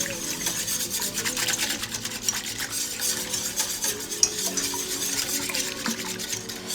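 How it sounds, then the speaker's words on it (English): A whisk scrapes and stirs thick fettuccine sauce against the bottom of a pot in quick, steady rasping strokes, close and continuous with light metallic clicks. "just keep on whisking and add more when it gets thicker"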